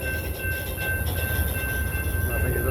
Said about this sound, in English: This is a short train.